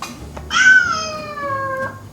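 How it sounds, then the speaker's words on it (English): A single drawn-out cat meow from a mobile video game rings out clearly, its pitch slowly falling as it fades over about a second and a half. "There's a button that makes it meow."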